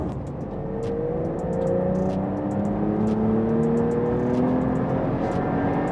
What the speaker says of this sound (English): Just listen to that engine rev all the way out.